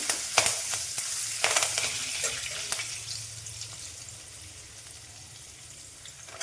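Curry leaves dropped into hot oil for poha chivda give a bright crackling sizzle, with sharp spits and pops early on that settle into a softer, steady hiss.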